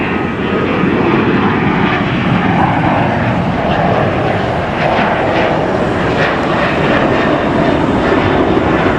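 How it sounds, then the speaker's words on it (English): An airplane taking off near a Los Angeles construction site gives a loud, continuous roaring engine drone that holds steady throughout, with no breaks. "Oh, there's an airplane taking off."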